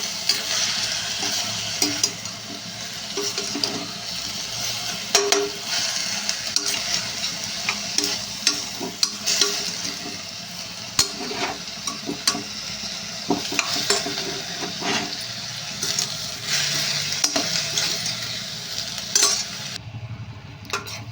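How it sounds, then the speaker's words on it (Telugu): Onions frying in a pan for a prawn curry, a constant close sizzle broken by repeated spatula scrapes and taps against the pan as they are stirred. "ఇవి ఫ్రై చేసుకుంటూ ఉండాలండి లేకపోతే మాడిపోతాయి ఉల్లిపాయలు అయితే చాలా వరకు అయితే వేగిపోయినాయండి"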